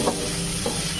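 Spiced masala for a tofu curry fries in a pan with turmeric and salt, giving a steady close sizzle with a couple of brief stirring scrapes over it.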